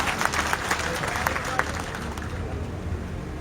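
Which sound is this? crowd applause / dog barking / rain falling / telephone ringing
crowd applause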